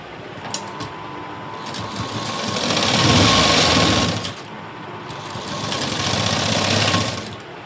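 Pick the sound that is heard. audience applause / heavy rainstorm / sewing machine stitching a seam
sewing machine stitching a seam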